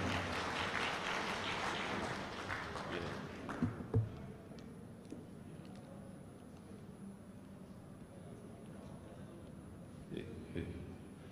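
Audience clapping at a ceremonial gathering, a fairly loud burst of applause for the first few seconds that dies away around the four-second mark, leaving a quiet room with scattered faint noises afterward.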